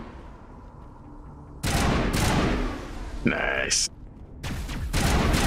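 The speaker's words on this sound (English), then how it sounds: "That's the shotgun. This is my assault rifle." Assault rifle fire in Mass Effect Legendary Edition, several loud sharp bursts with brief pauses between them, mixed with game effects, and a voice speaks briefly.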